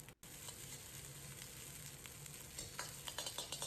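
Egg fried rice stir-fried in a wok with a little salt, a soft continuous sizzle under quick scraping and tossing strokes of a spatula, the scrapes growing sharper and more frequent toward the end.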